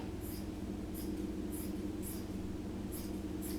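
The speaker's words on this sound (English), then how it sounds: "So I'm going to cut it open just like this on one side" Scissors snip through skirt fabric in a steady series of short, crisp cuts about every half second, heard up close over a low continuous hum.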